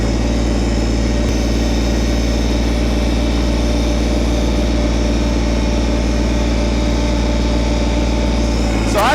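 A Kubota BT602 backhoe's diesel engine runs steadily at about half throttle, a loud, even drone with a constant low hum and no spoken voices.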